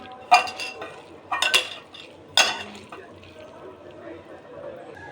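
Pakora batter of lentils, potato, rice flour and wheat flour is stirred in a bowl, giving a few wet clacking bursts of utensil against the dish, then quieter soft mixing under faint background noise.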